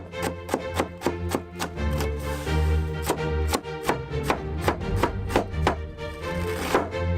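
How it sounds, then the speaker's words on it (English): A knife chops an onion into cubes on a cutting board in rapid, steady taps, close and crisp, with no voices. "Peel your onion, cut it into cubes."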